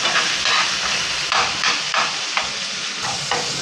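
Ginger garlic paste sautés in a pan, with a loud, steady hiss and sizzle broken by repeated scraping stir strokes at a regular pace, close and without voices.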